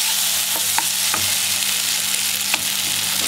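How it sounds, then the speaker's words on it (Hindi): Tomatoes and grated ginger sizzle steadily in a pan, with a few soft clicks of stirring over the continuous close frying hiss. "टमाटर अच्छे से फ्राई होने के बाद आलू डालूंगी मैं।"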